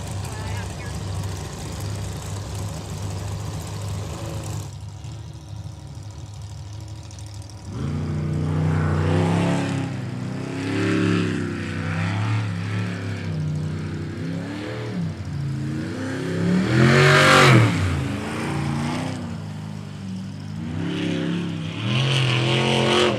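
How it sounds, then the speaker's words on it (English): A race boat engine roars inside the cockpit, first a steady drone, then after a brief dip it revs up and down in repeated loud surges while a voice talks over it. "The cockpit in these things is insanely loud."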